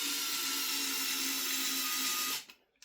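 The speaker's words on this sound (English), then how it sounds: "we can fit our screws back in" A power driver whines steadily and loudly, driving screws back into the plastic lower receiver of an airsoft MP9 on a Tapp Airsoft hybrid HPA build, then stops abruptly near the end.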